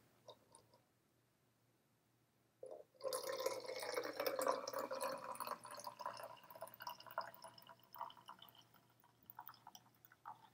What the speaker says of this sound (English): And then next I'm going to add the water.